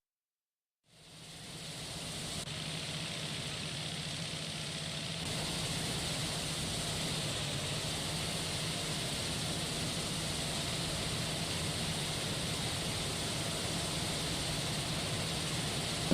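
A WW1 biplane aero engine, Sopwith or SSW type, runs in a flight simulator game, starting with a quick rise and then holding a steady, loud, continuous drone with no talk.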